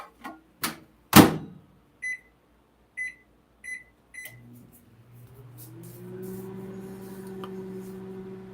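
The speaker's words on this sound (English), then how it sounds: "I had to put my sandwich in the microwave just for a few seconds, get a little warmed up." Microwave oven warming a sandwich: several sharp clicks and a series of short keypad beeps, then the low, steady hum of the running oven building and holding to the end.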